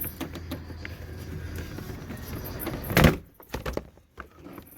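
Quiet rustling and handling noises lead up to a single sharp thunk of a Chevrolet Colorado door opening, followed by softer clicks and movement.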